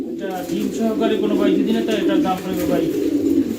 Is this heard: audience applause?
no